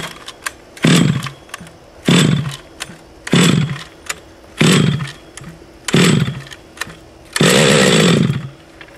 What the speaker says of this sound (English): You hear the engine pop.